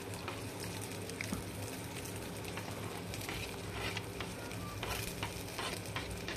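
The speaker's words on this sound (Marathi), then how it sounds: "तेल गरम झालेला आहे। आता आपण या तेलामध्ये कांदे टाकून घेऊया।" Onions added to hot oil for a tempering sizzle steadily and fry in a pan, with a dense, even crackle throughout and scattered light clicks and stirring sounds.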